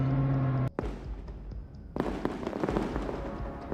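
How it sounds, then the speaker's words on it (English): Bradley's 25mm cannon firing at a T-90 tank, heard as a sharp burst followed by a dense, continuous clatter of impacts and rumbling, loud and close throughout. "a Bradley rolled into view directly in front of it and started firing"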